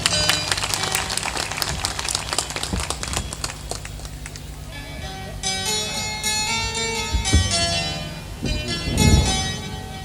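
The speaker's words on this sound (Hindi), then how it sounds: "ताली बजा दो इनके लिए।" Audience clapping at a religious discourse gathering in India, a dense continuous patter of many hands lasting throughout, with bell-like tones and background music rising toward the end.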